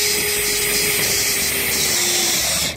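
A power driver runs a steady, continuous whir while driving screws into a cargo trailer window frame, holding close and even for a few seconds before cutting off.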